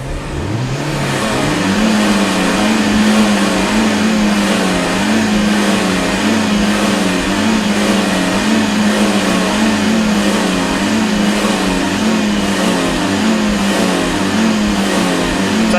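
A car engine climbs in revs within the first second, then holds a loud, steady high-rev drone with a slight waver for the rest of the stretch, with no voices over it.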